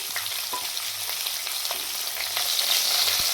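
Chopped tomato fries in a pan, a close, continuous hissing sizzle with small crackles and occasional stirring taps.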